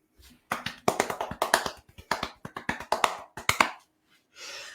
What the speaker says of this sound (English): That was a round of applause, in case that wasn't obvious to any listeners